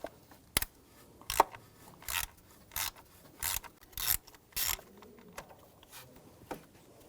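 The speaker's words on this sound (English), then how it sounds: "Use a E5 socket." A socket wrench ratchets in short, evenly spaced bursts while backing out the coil hold-down screw on a 2006-2010 BMW 550i 4.8L V8, quiet and close.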